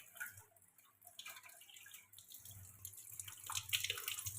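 Water runs from a tap as hands are washed, a soft, uneven trickle and splashing that grows a little louder toward the end.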